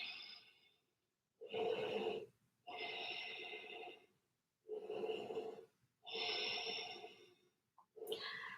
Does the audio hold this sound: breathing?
yes